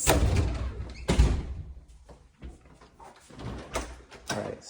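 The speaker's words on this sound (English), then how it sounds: "Stepping inside the front door" A house's front door opens with a couple of heavy thumps and latch clunks, followed by scattered softer knocks and handling sounds nearby.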